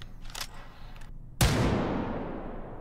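AR 50A rifle firing a single shot in the game H3VR, one sharp loud crack followed by a long booming tail echoing away, preceded by quieter handling clicks.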